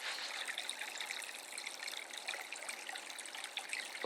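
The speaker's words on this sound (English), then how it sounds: "You can hear the water going." Water pours steadily through a DIY PVC overflow tube into a bucket, a continuous close splashing trickle with no gaps.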